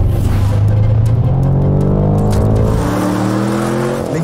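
An Audi RS7 engine accelerates hard, a loud, continuous roar whose pitch climbs steadily as the revs build, heard close by with no voices.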